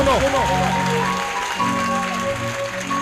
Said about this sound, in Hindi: ये ताली बजा रहा है, ये स्वागत कर रहा है परमेश्वर का